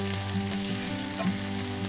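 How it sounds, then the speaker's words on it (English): Onions and apples sauté over medium heat in a pan to caramelize, a steady close sizzle with faint stirring movement throughout. "we're going to saute and caramelize our onions and apples"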